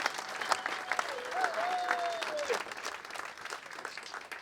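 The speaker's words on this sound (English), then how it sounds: "I think we owe him a big round of applause just for having this here" Audience applause at a board builders hall of fame ceremony, a sustained round of clapping with a faint tonal whistle partway through, then slowly thinning out.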